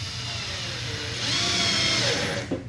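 A power drill drives short screws through a go-kart seat into the kart body: a close, whining motor run that rises in pitch and strain midway, then winds down and stops.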